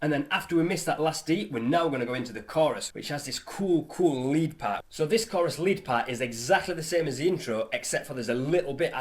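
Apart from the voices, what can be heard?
No distinct noise like a dog, phone or traffic.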